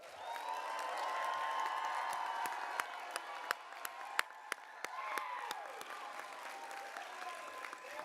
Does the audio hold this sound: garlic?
no